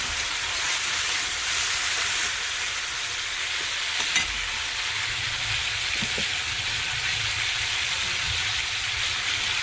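Oil heats in a pan for an egg dish, hissing and sizzling in a constant, fairly loud wash, with a couple of faint knocks partway through and no talking.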